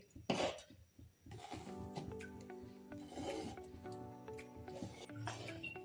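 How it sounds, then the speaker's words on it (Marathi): A block of jaggery is grated by hand for methi laddu, giving a steady rasping scrape in repeated strokes at close range, fairly quiet and heard alone. "आता ना आजीने गुळ किसायला घेतला आहे जो की आपल्याला घालायचा आहे"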